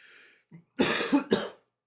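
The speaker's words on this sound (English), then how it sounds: "I've had this like tickle cough thing" A person coughs a couple of times, short harsh bursts close to the mic, preceded by a faint breath and throat sound.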